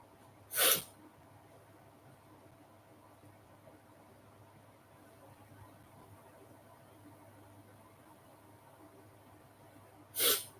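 Two sharp sneezes, one near the start and one near the end, separated by a long stretch of quiet room hum.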